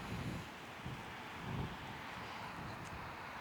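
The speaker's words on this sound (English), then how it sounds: "see, windy days" Steady wind rushing across the microphone in low, buffeting gusts, with a continuous airy hiss and no voices.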